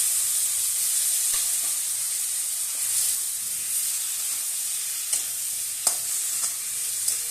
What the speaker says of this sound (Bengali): এই পেঁয়াজ রসুন কাঁচা লঙ্কা বাটাটা একটু কষানো হয়ে গেছে।